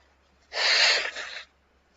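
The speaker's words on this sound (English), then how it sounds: "I'm going to blow my nose." A single close, wet nose blow lasting about a second, a harsh rushing honk that tapers off into quiet.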